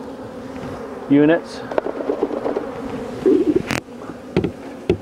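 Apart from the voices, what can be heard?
honey bees buzzing during apiary hive inspection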